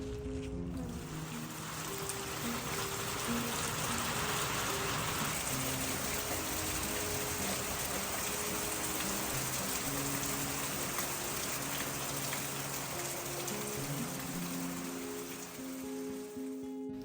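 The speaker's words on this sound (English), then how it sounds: "It ended up being a Hurricane 1 and brought a ton of rain and some flooding." Heavy rain from a category 1 hurricane pours down in a dense, constant hiss on surfaces nearby, steady and loud throughout with no talking.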